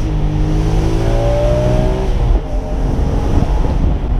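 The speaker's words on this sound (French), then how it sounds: "Ça reste vraiment une voiture qui en fait, après 5000, commence vraiment à donner de la voix." A BMW M3 E46 cabriolet with its 343 hp engine revving hard in sport mode, a loud, close, rising engine note that climbs, drops briefly and then pulls again.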